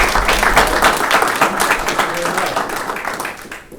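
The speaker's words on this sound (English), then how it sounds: "Have a round of applause." An audience applauds after a talk on chemical safety for emergency responders, a brief burst of dense clapping that holds steady, then thins and fades over a few seconds.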